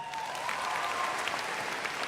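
Audience applause fills a large hall during an FBLA national conference opening ceremony, a steady dense wash of clapping from many hands that holds at an even level throughout.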